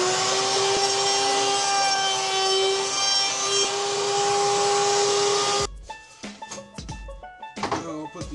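A router fitted with a 1/4 inch round-over bit cuts wood for a small flower planter, giving a loud, steady high-pitched whine for about six seconds. The cut then stops, leaving scattered knocks and the tool spinning down.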